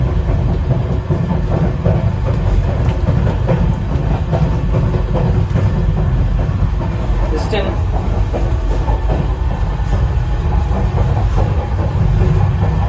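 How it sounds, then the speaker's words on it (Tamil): A loud, continuous rumble of a train rolling past nearby at the Pamban Bridge, with a steady rattling clatter filling the whole stretch and voices mixed in underneath. "இதாங்க ஃபர்ஸ்ட் ட்ரெயின்."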